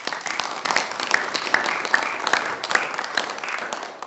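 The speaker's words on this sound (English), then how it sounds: "please make Blair and Brad feel welcome with a round of applause" An audience at a seminar on cultural burning welcomes two presenters with a round of applause, steady clapping from a modest crowd with audible individual claps and light rhythmic peaks.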